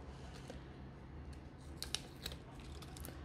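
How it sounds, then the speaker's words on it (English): Cuticle scissors snip through nail forms in a few quick, faint crisp cuts under a soft steady background hum, close by and with no talking. "I use cuticle scissors. They are perfect for cutting the forms."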